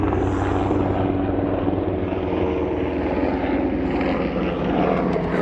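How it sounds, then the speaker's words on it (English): Military medical helicopter flying overhead, a loud, continuous rotor and engine roar that stays steady throughout with no talk over it. "there's a chopper going overhead."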